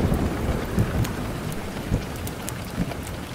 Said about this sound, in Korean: 밤이 되자 갑자기 천둥번개가 치며 비가 쏟아지기 시작했다.